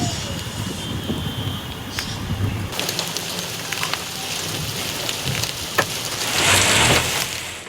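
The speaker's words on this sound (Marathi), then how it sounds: "विजांसह गारांचा जोरदार पाऊस सुरू आहे" Heavy unseasonal rain pours steadily during a hailstorm in the Konkan region, a dense continuous hiss with scattered sharp ticks and patters, growing louder near the end, with faint birdsong in the background.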